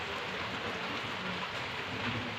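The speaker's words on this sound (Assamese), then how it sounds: "ইমানেই বৰষুণ দিছে" Heavy rain pours down steadily and close by, a dense continuous hiss of drops on surfaces with no letup and no voices, with wind blowing on a cool rainy morning at home.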